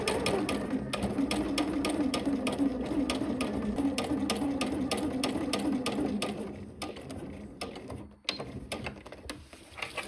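A sewing machine hems a pair of pants, its needle running in a fast, steady mechanical chatter up close before slowing and stopping in a few brief bursts.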